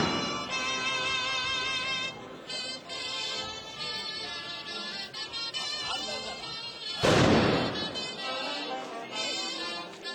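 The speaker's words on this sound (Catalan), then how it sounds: "soroll eixordidor i envoltada de fum i de més de 400 galejadors" At the Centelles festival, hundreds of galejadors fire blunderbuss volleys. One loud, broad blast booms near the middle, set in a dense festive din with music and crowd noise around it.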